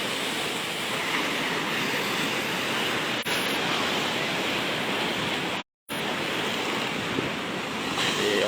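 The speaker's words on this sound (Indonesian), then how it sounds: "Anda dapat lihat sendiri di layar kaca seperti apa gulungan ombak ini" High sea waves roll and crash at the PPI Beba fishing harbour pier near Galesong, South Sulawesi, in a steady, loud, continuous roar of surf mixed with wind, with one brief dropout and no voices.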